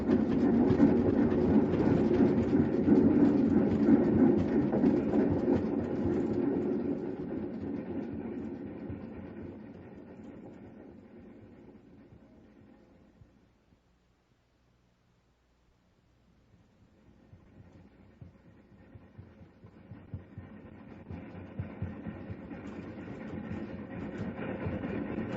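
A train engine rolls along the rails toward Dale Creek Bridge with a steady, heavy rumble. It fades to near silence midway, then swells back up.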